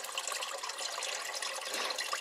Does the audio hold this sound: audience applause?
no